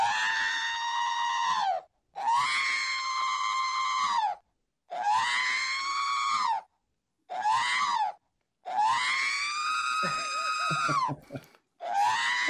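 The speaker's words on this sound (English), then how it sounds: "creating, again, brand new screams in real time" Synthesized R2-D2 droid screams from the Human Cyborg Relations astromech audio app, generated in real time: five long, loud, shrill electronic wails with brief silences between, and a faint voice under the last one.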